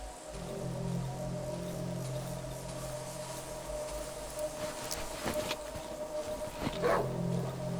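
A dog barking in the horror game Darkwood, with a few short, muffled barks late in the clip over a low droning ambient hum.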